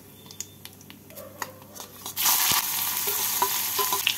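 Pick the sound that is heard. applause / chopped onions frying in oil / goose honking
chopped onions frying in oil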